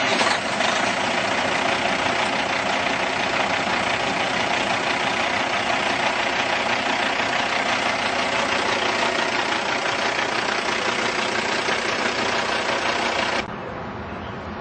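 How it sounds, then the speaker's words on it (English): A Caterpillar C15 diesel engine in a Kenworth T2000 semi truck cranks, starts and settles into a loud, steady idle, then drops noticeably just before the end. "Let's go ahead and hear it start up."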